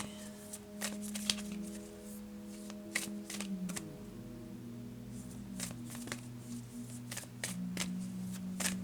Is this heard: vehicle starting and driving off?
no